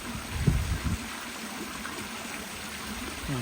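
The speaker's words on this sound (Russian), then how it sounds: "смогли создать ручей, который изливается в непосредственно в пруд" A stream flowing into a garden pond with a waterfall, a steady close trickle and gurgle of water, slightly louder and splashier at first.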